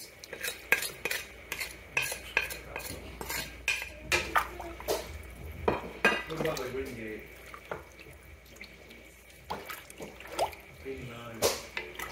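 A spoon clinks and scrapes against a pot while black pepper and salt are stirred into arroz caldo broth, a loose run of close metallic taps and liquid swishes, with a person talking quietly between strokes.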